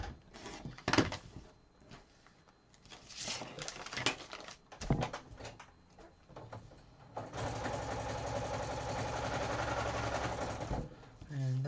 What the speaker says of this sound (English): And that's my sister sewing.